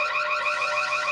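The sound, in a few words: fire alarm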